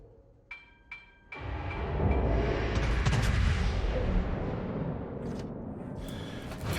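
Heavy warship main-battery gunfire from the Iwami in World of Warships: a couple of sharp distant booms, then a loud sustained roar of salvos and rumbling explosions that rolls on for several seconds without talk.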